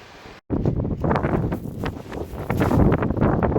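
Night wind on a beach buffets the microphone in loud, uneven gusts of rumbling noise after a brief quieter start and a sudden cut.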